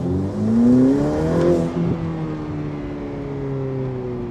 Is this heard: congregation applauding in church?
no